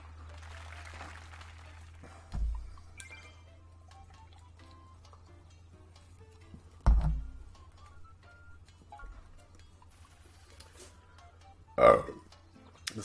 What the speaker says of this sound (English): The burps.